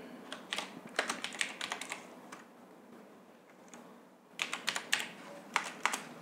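Fingers type on a computer keyboard in bursts of quick, close clicking keystrokes, pausing for a couple of seconds in the middle before another rapid run of keys, with no talking over it.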